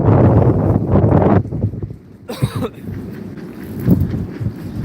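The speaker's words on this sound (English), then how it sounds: "Windy again." Gusty wind buffets the microphone outdoors by a boat moored at a dock, loud at first, then easing briefly before picking up again.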